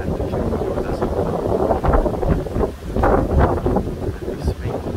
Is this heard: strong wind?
yes